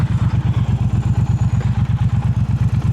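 Motorcycle engine running steadily up close, a loud, even low-pitched pulsing throb with a regular rhythm and no talk over it.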